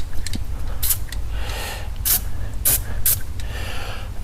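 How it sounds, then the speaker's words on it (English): Several short bursts of WD-40 aerosol spray hiss, spaced irregularly over a steady background rumble, close by. "So now what I'm going to do is just spray these with a little"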